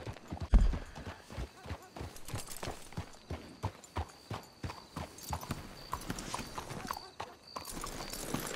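Horse hooves clip-clop at a steady walking pace in the Red Dead Redemption 2 video game, close and fairly soft, with an occasional snort mixed in beneath quiet game ambience.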